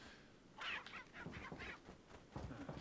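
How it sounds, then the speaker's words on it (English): Crows caw in a stretch of the video game Resident Evil 4, a run of several harsh, raspy calls spaced across a few seconds, fairly faint against quiet ambient game sound with no talking. "I heard a crow."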